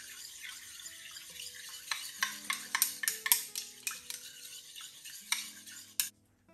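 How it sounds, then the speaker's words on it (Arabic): A homemade rose face wash mixture is stirred in one direction, giving a run of quick, clicking and scraping strokes against the bowl that speed up in the middle and stop abruptly. The sound is close, quiet and has no speech. "وبراعي دايما ان انا اقلب في اتجاه واحد"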